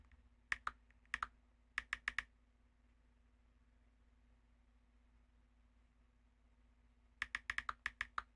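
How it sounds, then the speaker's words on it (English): Loud clacking on a computer keyboard during a basketball video game session, two short bursts of quick keystrokes at the start and another rapid burst near the end, with near-silence between. "why's my typing so loud?"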